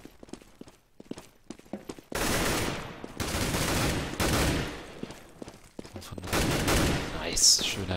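Rapid bursts of gunfire in Counter-Strike on the de_nuke map, loud and close, broken by brief pauses and softer clicks and footsteps between volleys.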